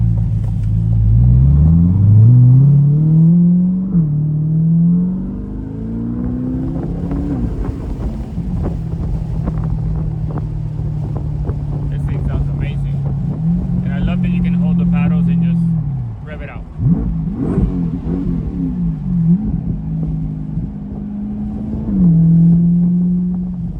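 A 2025 C8 Corvette Stingray pulls away, its engine note climbing and shifting through repeated revs with deep rumble. Wind buffets the microphone throughout as the car drives off.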